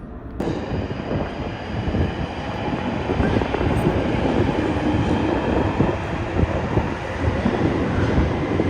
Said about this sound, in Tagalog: Ayan na ang train.